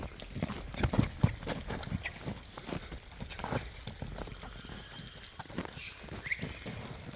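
Hooves of a young horse clip-clop at a walk, a steady uneven beat of close, moderately loud footfalls over light background noise.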